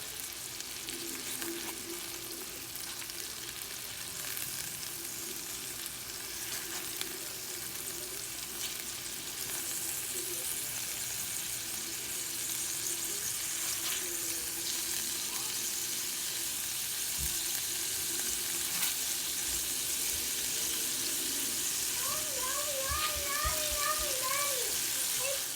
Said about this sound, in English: So I just cooked it in my cast iron skillet, which I think is just as good.